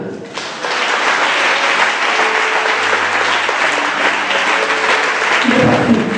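Church congregation applauding and cheering during a worship service, sustained loud clapping filling the room for several seconds with mixed voices beneath.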